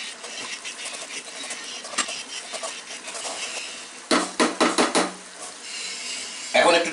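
A spoon scrapes and clanks against a pan while stirring egg masala curry with kasuri methi, a run of rhythmic metallic knocks near the end over a soft cooking hiss.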